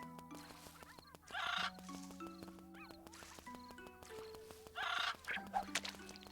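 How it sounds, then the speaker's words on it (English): A gaga bird in the game Little Witch in the Woods lets out a few loud, harsh squawking bursts over soft, plinking background music, with quieter chirps in between. "It's a real gaga bird."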